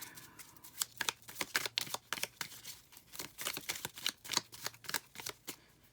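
Tarot cards shuffled by hand up close: rapid rhythmic bursts of papery riffling and flicking that repeat steadily in quiet surroundings, without speech.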